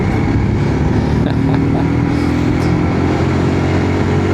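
An adventure motorcycle engine drones loud and close with a steady mid-pitched rumble, and a few faint clicks could be gear changes. No one speaks.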